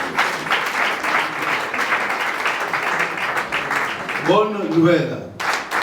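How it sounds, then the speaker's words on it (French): A church congregation applauds at a Sunday thanksgiving service, with dense, sustained clapping filling the room, loud and steady, and a voice speaking over it near the end. "Acclame Jésus pendant que l'on continue"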